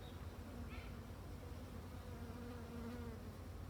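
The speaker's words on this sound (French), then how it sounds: "Là, on a des faux bourdons qui sont en train de sortir." Honeybees hum in a continuous low buzz at a very weak nucleus hive as drones emerge, heard faintly and close with no other sounds.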